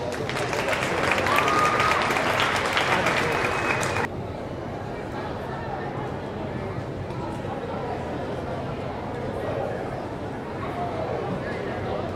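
Crowd applause in a high school gym honoring graduating basketball seniors and their parents on senior night, loud for the first four seconds, then dropping to a softer murmur of crowd noise.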